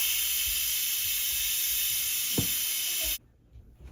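A pressure cooker venting steam by manual release after cooking: a loud, steady high hiss that runs without a break, then cuts off abruptly near the end and leaves a faint, quiet room.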